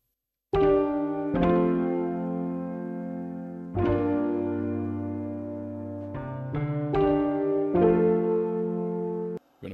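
A MIDI keyboard loop with reverb added plays sustained, rich chords that shift in a repeating pattern with a few quicker stabs, smooth tails blending between changes, moderately loud and without any voices.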